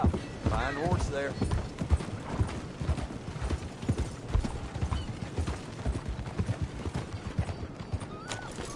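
Steady clip-clopping hooves of a horse in Red Dead Redemption 2, close and rhythmic, with a short neigh early on and voices talking over the trotting.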